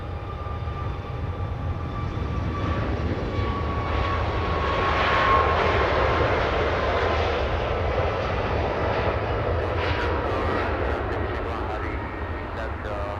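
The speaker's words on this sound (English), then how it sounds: "Alaska 1456 in a very special livery." An Alaska Airlines jet, flight 1456, in a special livery moves through Los Angeles International Airport on an evening. A steady engine rumble with a thin whine swells gently midway, and voices can be heard faintly alongside it.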